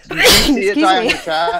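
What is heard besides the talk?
sneeze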